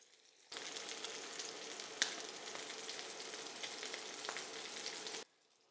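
Skin-side-down steelhead trout fillet in a hot pan gives a steady, close crackling sizzle that holds evenly for several seconds, with one small pop partway through and no voices.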